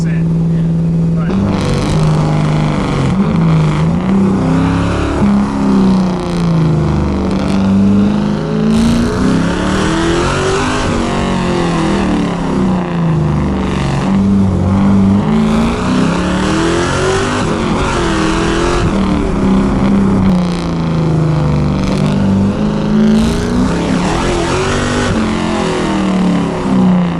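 An LS-swapped Mazda Miata driven hard on a backroad, its V8 engine droning loud and close with rising and falling revs through gear changes, while people talk inside the car over the constant engine noise.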